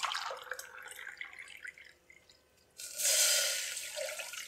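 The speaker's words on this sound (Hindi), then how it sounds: "सबसे पहले हम पैन में 3 कप पानी डालेंगे।" Water splashes as it is poured from a cup into a pan to make Kashmiri pink tea. Quiet kitchen handling comes first, then a bright, steady pouring rush partway through.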